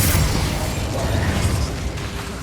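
Blast of the Confringo fire spell in Hogwarts Legacy: a loud, rumbling burst opening with a sharp pop, then a roaring, crackling tail that fades slowly over a couple of seconds.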